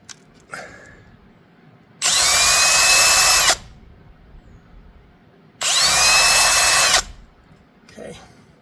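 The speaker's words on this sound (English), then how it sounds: "and then I'll do the pre-drills." Two bursts of a power drill whirring at close range, each lasting over a second, with quiet pauses between and a few faint knocks around them.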